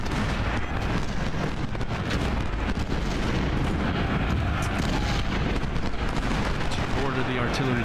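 Twelve-pound howitzer batteries fire in the Ultimate General Civil War strategy game, a dense, steady rumble of booming cannon and musketry that fills the whole stretch without pause.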